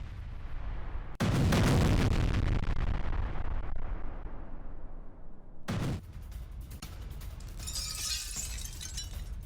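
Two heavy missile explosions in Kherson, Ukraine, each a sudden loud blast followed by a long rumbling roar and debris noise, the second trailing into crackling.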